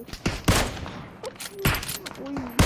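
Gunfire in the mobile battle-royale game PUBG Mobile, several sharp, loud rifle bursts fired in quick clusters with short pauses between them, plus a few faint tonal game sounds in the gaps.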